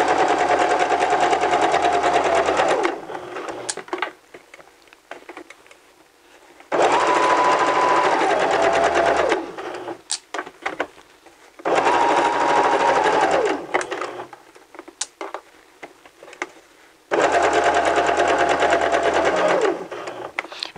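Sewing machine stitching a fabric seam, running in three long loud bursts with brief quiet stops between, a close steady motor hum with rapid needle clatter, no speech.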